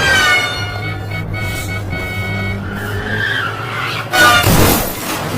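A car speeds and skids on a road in a film, engine roaring steadily with long tire squeals, then a louder screech near the end, close and loud with no talking.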